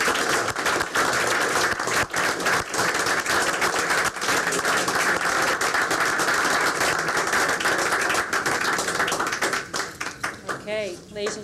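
An audience applauds at a school board meeting, a sustained, dense wash of clapping for about ten seconds that tapers off at the end into a few scattered claps, with some voices underneath.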